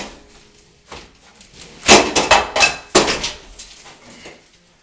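Corner of an old bathtub being busted out with a hammer during a bathtub replacement: a burst of loud, sharp, irregular cracking and banging impacts near the middle after a quieter start, with no speech.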